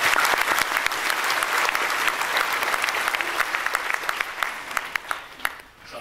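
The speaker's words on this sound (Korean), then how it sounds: "영적 각성 집회를 허락하신 하나님께 우리 한번 영광의 박수 올려드리겠습니다." A church congregation at a spiritual revival meeting claps together in a long, dense round of applause that fills the hall, holding steady before thinning out near the end.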